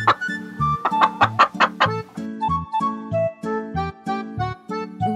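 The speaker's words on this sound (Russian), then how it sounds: "Курочка." A toy animal house clucks like a chicken in a quick run of bright, sharp clucks over a bouncy electronic tune with a steady thumping bass.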